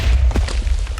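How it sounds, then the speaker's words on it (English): Creeper explosions summoned by a boss in Minecraft-style combat, a run of heavy booming blasts and thuds overlapping in quick succession, loud and close. "Just the explosions themselves. Like, look how many creepers he summons."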